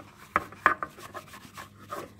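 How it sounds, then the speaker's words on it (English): A cleansing wipe rubs over the surface of a Criterion II urinalysis analyzer in a few short, close scrubbing strokes, with no talking. "So I'm going to use a wipe, a cleansing wipe,"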